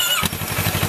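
A motorcycle engine fires up from silence and settles into a steady, loud, close idle with a regular low throbbing pulse.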